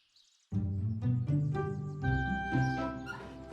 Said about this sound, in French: Le petit chien appelle à l'aide.